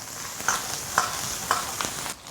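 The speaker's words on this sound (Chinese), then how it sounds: "6成油温下入过好水的牛肉，大火拨转。" Beef, pre-blanched, stir-frying over high heat in hot rapeseed oil: a steady sizzle broken by several rhythmic scraping tosses of a spatula, close up with no talking.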